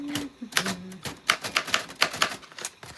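A typewriter types onto cards with rapid clacking keystrokes in uneven bursts, close and crisp, plus a brief ratcheting mechanical whir near the start.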